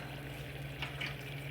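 Water is poured into a pan of boiling dry au jus mix, a soft splashing pour over a steady low bubbling simmer, brief and fairly quiet, with no voices.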